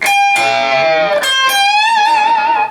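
Loud electric guitar notes bend up and slide back in pitch, the last one held with a wide, wavering vibrato.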